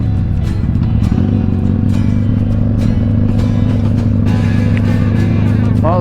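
A Kawasaki Vulcan Classic motorcycle rides along with a loud, steady engine drone and rumble, continuous throughout, with some clatter and wind noise on top and no speech.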